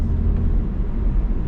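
A 200,000-mile Saab 9-5, fully warmed up with a new rear muffler, idles close by. The exhaust makes a steady, deep, low rumble with no revving.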